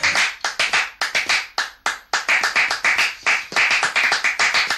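Flamenco-style palmas, a couple clapping in tight unison on a Spanish TV show, sharp close claps in quick rhythmic bursts with brief pauses, loud and alone with no talk.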